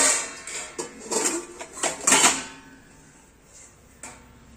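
Metal plates and cooking vessels clatter and clink as they are handled and stacked, a quick run of bright, close clanks in the first half that thins to a single clink near the end.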